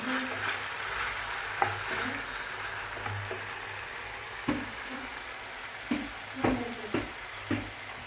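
Tomato sauce being stirred into cauliflower manchurian masala frying in a pan, with a steady soft sizzle and several sharp spoon scrapes and clinks in the second half, no talking.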